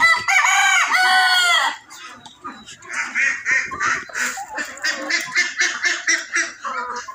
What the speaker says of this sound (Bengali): এখানে 13টির মতো সোনালী মুরগি আছে ইনশাআল্লাহ।